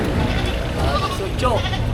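Goats at a livestock market bleat a few times, thin wavering calls rising over a busy background where people talk nearby.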